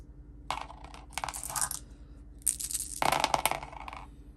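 Several dice rattle and clatter across a table in a few short bursts during a solo tabletop RPG session, close up and moderately loud, with no voices.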